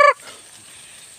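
A single short, loud harmonic squawk from a chicken opens the clip, then only faint background noise follows.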